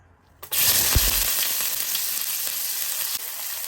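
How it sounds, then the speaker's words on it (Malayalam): Chopped onion hits hot oil in a pan with a sudden sizzle that settles into a loud, continuous frying hiss, with a brief clatter as it goes in. "ആദ്യമായിട്ട് നമുക്ക് പാൻ ചൂടാക്കി അതിലേക്ക് എണ്ണ ഒഴിച്ച് അരിഞ്ഞു വെച്ചിരിക്കുന്ന സവാള ചേർക്കാം"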